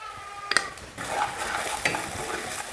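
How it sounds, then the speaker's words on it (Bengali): Spices with salt, turmeric, coriander powder, cumin and garam masala for palak paneer are stirred and fried in a pan, giving a steady sizzle with a few sharp scraping clinks of the spoon. "মশলাটা ভালো করে মিক্স করে নিলাম।"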